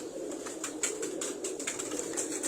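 Soft, low cooing from tournament performing pigeons blends with brighter repeated bird calls, faint and fairly distant.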